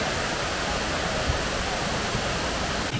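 A waterfall in the dense forest of Sungai Lembing roars as a constant, even wash of broadband rushing water, fairly loud and unbroken throughout, with no other distinct sounds.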